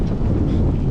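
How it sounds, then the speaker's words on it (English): Strong headwind buffets the microphone while cycling across America, a loud, low, rumbling roar that stays constant through the short moment. "It's really windy still. Definitely the strongest headwinds we've had."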